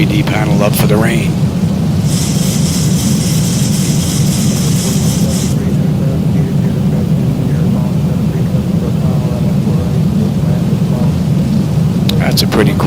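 Steady rain with rumbling thunder in the X-Plane 12 flight simulator, a heavy low roar running the whole time with a brighter hissing burst early on, accompanied by a continuous cockpit hum.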